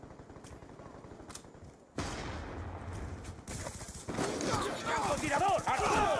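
Gunshots in a Black Ops 2 multiplayer match, a few sharp shots early on, then denser firing and battle noise building toward the end, with a player talking over it.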